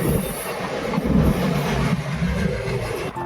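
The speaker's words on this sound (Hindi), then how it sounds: "बहुत सही जगह पर ये ट्रेन आई है" Indian Railways 14087 Runicha Express rushing past on the Ringas–Phulera line, a loud, steady roar of wheels and wagons with faint wheel squeal, heard close and continuous with no talk.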